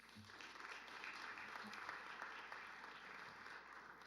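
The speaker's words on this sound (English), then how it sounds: "Round of applause for Coach Smith." A school audience at a Valley View CUSD 365U event applauds Coach Smith, with sustained, even clapping from the crowd filling the whole moment at a fairly distant, soft level.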